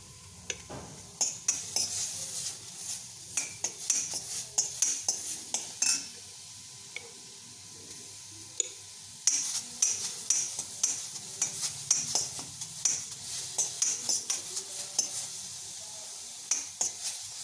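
Fish with bamboo shoots being stirred in a pan over a steady sizzle, with frequent light metallic scrapes and clinks of a utensil against the pan throughout.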